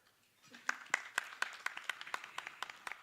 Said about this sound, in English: I would like us to clap for her